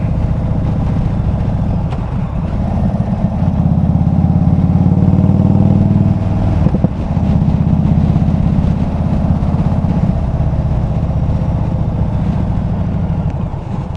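An Indian Super Chief Limited motorcycle on the open road, picked up by a helmet microphone: a continuous low engine drone wrapped in loud wind rush, with no talking.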